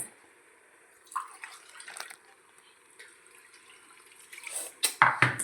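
Water is poured from a glass into a pot while egg biryani is cooked, bursts of splashing with a faint steady hiss between them and the loudest pours near the end.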